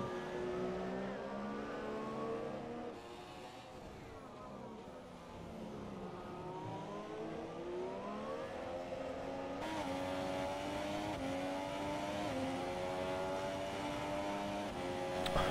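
Formula-style race car engines from the F1 2017 game at the United States Grand Prix whine at high pitch, rising and falling as gears change and cars pass, a continuous layered drone.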